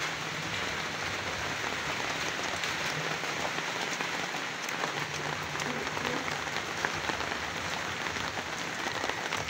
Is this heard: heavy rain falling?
yes